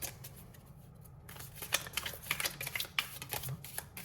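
Tarot cards are shuffled and handled at close range, giving a quiet run of crisp papery flicks and snaps that grow busier and more irregular after the first second, with no talk.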